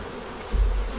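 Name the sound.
honey bees buzzing at the hive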